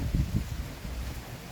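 Warm, dry wind blows across a home garden in Thrissur, Kerala, a low rumbling gust buffeting the microphone with no talking.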